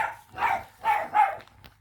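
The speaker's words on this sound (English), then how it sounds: "Oh, a couple of noisy dogs." A couple of dogs bark near a country cottage: three or four sharp, loud woofs in quick succession, fairly close, with quiet gaps between them and no talking.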